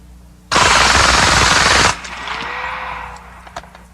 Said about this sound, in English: submachine gun with a suppressor. Now, this is on full auto.